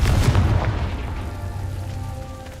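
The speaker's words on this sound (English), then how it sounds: "Confringo!" Confringo fire spell explosion in Hogwarts Legacy, a loud deep boom at the start that rumbles and fades over a couple of seconds.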